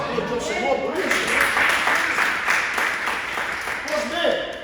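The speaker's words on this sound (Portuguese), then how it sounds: "Vamos aplaudir o Senhor por isso?" A church congregation at a worship service claps for a few seconds, steady applause with speech starting up briefly under it toward the end.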